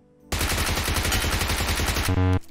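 Rapid automatic gunfire from a video game, a dense loud burst of shots lasting about two seconds, ending in a brief heavier blast.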